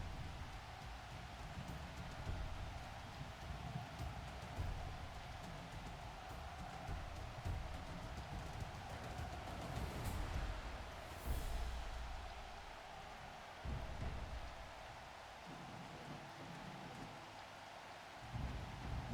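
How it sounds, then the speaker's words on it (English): Steady rain falls during a Blood Bowl match in Dungeonbowl. The wash is soft and continuous with a low rumble beneath it, faint and unbroken for nearly twenty seconds, and no one talks over it. "I'm just mesmerized by the rain."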